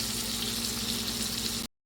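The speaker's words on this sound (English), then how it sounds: "make sure that both sides of the shrimp is getting fried, the pan fry" Shrimp pan-frying in a pan for devilled shrimp, a steady, close, loud sizzle with no voices, cutting off abruptly.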